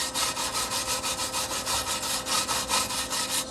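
Wire brush scrubbing back and forth over plug welds on a steel heat treatment oven door, a steady rhythmic rasp of about fifteen even strokes, close and loud, with no talk.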